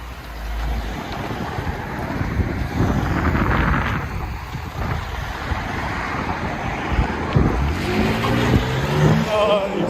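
A 2016 Dodge Durango with a 3.6L V6 and its rear resonator deleted rumbles outdoors, a low exhaust drone rising and falling under heavy wind buffeting, with traffic-like noise in the background.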